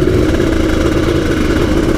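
An Aprilia RS250 two-stroke 250cc motorcycle engine is started and runs with a loud, steady buzzing drone right at the microphone, holding an even pitch throughout with no talk.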